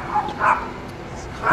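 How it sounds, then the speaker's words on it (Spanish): A small dog barks in a few short yips from a short distance, with other dogs barking in the background at a street BMX spot. "Se excitó el perrito ahorita que empezaron a ladrar los demás"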